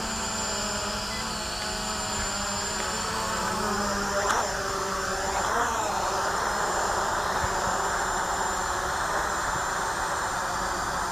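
A Hubsan X4 Desire quadcopter drone buzzes steadily outdoors in calm air, its high whine holding at a constant loud level through the landing, with some shifting tones midway.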